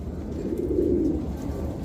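A rare yellow Fleja pigeon gives one soft, low coo up close, a short muffled murmur rising and fading in a quiet loft.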